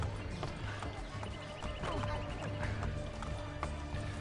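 Horse hooves clip-clopping in the video game Assassin's Creed Brotherhood, a steady trotting rhythm of light hoof beats under game music and ambience, with no speech.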